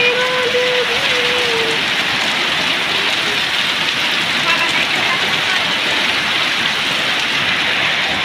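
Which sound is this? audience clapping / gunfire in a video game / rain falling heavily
rain falling heavily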